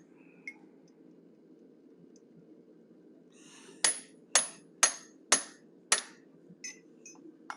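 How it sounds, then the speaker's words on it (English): Five sharp, ringing hammer blows strike a pointed punch while forging the ears on an animal head, evenly spaced and close, followed by a few lighter taps over a steady low background hum. "Right now we're going to finish off the ears using a pointed punch"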